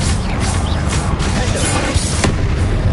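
A Confringo blasting spell explodes in the Hogwarts Legacy video game, giving a loud, dense burst of booming blast noise with a sharp crack near the middle and no voices.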